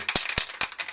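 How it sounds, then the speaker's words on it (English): A spray can of tinting lacquer is shaken in quick bursts, the mixing ball rattling sharply three or four times within a second, close up. "This is only a tinting spray."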